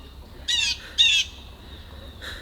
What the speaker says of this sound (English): The birds are being pretty loud here